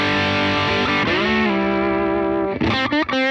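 An electric guitar runs through a UAFX Woodrow amp pedal, giving lightly driven sustained chords that ring out and then change to a few quick strummed stabs near the end. It is loud and close, with no voices.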